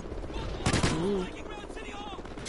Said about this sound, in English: It's just shooting around.